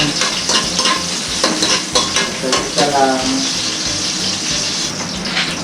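Moringa leaves being sautéed in a pan, a loud continuous sizzle and frying hiss with rhythmic stirring scrapes, no speech.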